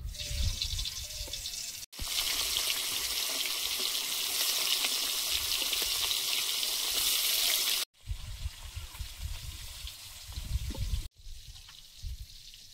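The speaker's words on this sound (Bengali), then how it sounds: "আগে কই মাছগুলো ভেজে নেব।" Koi fish frying in hot oil, a loud broad sizzle that runs in long steady stretches broken by sharp cuts, with softer bubbling and clatter between bursts; no talking.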